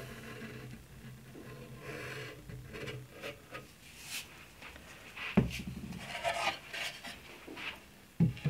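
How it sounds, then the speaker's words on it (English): Hand-sanding the edges of a wooden vinyl record storage piece: intermittent rasping and rubbing strokes at close range, with a few sharper knocks of wood, no talking. "I will sand around the edges to smooth them out a little bit."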